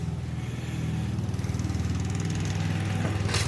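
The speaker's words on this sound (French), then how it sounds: "Il y a le voisin qui est en train de tondre sa pelouse." A neighbour's lawn mower drones continuously at a steady pitch, a rough buzzing engine heard from nearby outdoors, filling the whole stretch with no speech over it.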